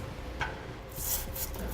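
Wire tube brush scrubbing inside the weld nuts of a Ram truck frame for a Curt fifth wheel mounting bracket, giving short raspy rubbing strokes, close and fairly quiet, with no talking.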